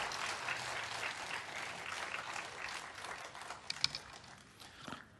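A church congregation at Sunday worship applauds to welcome the pastor, a dense, even patter of many hands that holds steady and then tapers off at the end.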